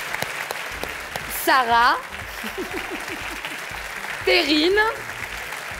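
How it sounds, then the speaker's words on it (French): A live audience claps for jury members at a public debate on journalism, a continuous patter of applause under an announcer's voice naming people over a microphone. "Merci d'applaudir Jean-Luc."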